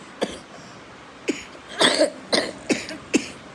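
A person with a cold coughs repeatedly, about six short hacking bursts at uneven intervals, close and fairly loud, with no speech.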